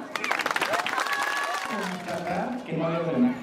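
Crowd applause at a Mexican election campaign rally in Pénjamo, a short burst of clapping that quickly fades under someone speaking over a loudspeaker.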